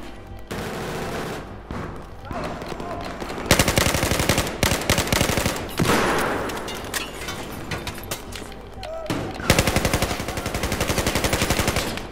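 Rapid machine-gun fire in Battlefield 4, loud sustained automatic bursts rattling close by, broken by brief pauses between volleys.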